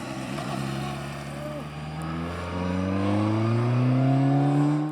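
Benda LCF 700 Pro cruiser motorcycle with a 300-section rear tire on a wide rim, its engine droning steadily then rising in pitch as it accelerates, loud and close with continuous wind and road noise.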